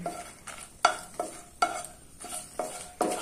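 Four dried red chillies stirred in hot oil for pickle, with a spoon scraping the pan in repeated strokes about every half second over a soft background sizzle.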